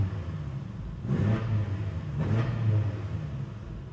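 Stock BMW M5 F90 V8 revving in two quick throttle blips, each a swelling roar that falls back to a low, steady idle rumble, heard close and without talk.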